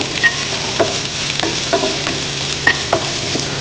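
Onion and celery sauté in hot oil for a crispy baby corn salt and pepper dish, giving a steady close sizzle with a few spoon clinks and scrapes against the pan as the vegetables are stirred.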